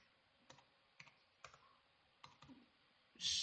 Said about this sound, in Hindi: तो यहाँ पे हम टाइप कर लेते हैं superbed.com।